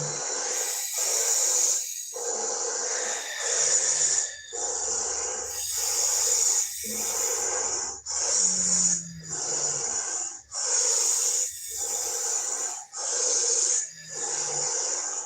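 Heavy, hissing breaths in a slow regular rhythm, close to the microphone, each long inhale and exhale separated by brief pauses, continuing throughout.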